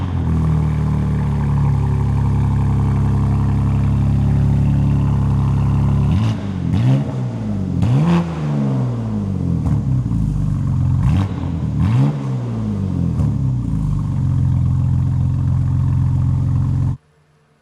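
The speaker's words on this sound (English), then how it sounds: "Okay, so now this is with the valves open." Titanium aftermarket exhaust on a car with its valves open, droning at steady idle, then blipped through several sharp revs around the middle before settling back and cutting off abruptly; loud and close, no talking.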